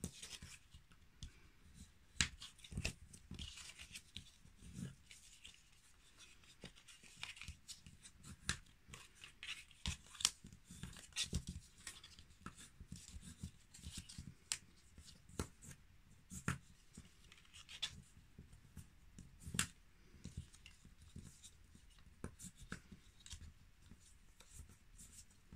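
Paper being folded and creased by hand while making a magic cube, with soft repeated rubbing, scraping and crisp clicks close by, no talking.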